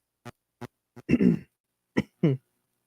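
A string of short coughs and throat-clearing bursts, close and alone: three quick light hacks, then a rougher longer cough, then two more.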